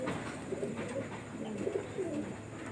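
Pigeons cooing in a loft, a steady overlapping murmur of soft low coos running continuously at moderate distance with no talk.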